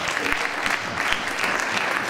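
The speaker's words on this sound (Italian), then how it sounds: "Facciamo un applauso." Audience applause at an Italian stage show, dense steady clapping filling the whole stretch with no voices over it.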